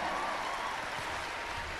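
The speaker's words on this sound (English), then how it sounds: "I invite you to clap for the entire team that has put this show" Steady, even applause from a concert audience at a 24/SG show, a broad wash of clapping that holds at one level throughout without voices over it.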